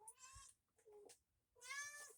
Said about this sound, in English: my cat is right on cue because he hears me talking